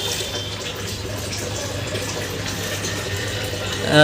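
Imitation jewellery is washed in a bucket of water, making a steady sloshing, running-water wash that stays even throughout and swells slightly at the end.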